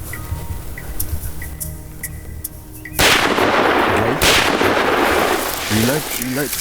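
A hunting rifle fires a single loud, sharp shot on an African hunt, cutting through quiet outdoor ambience and followed by a lingering rumble and echo, with brief voices afterward.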